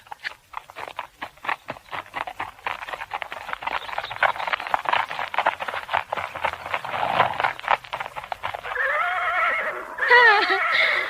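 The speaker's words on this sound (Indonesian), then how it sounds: "Seorang gadis menunggang kuda diiringkan oleh 10 orang laki-laki." Horses neighing and whinnying amid clip-clopping hooves as a young woman rides with ten mounted men, steady hoofbeats throughout and loud whinnies near the end.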